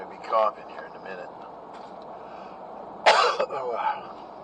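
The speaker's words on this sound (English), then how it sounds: "I'm going to be coughing here in a minute" A couple of short, harsh coughs or throat-clearing bursts, one near the start and a louder cluster later, over a quiet background.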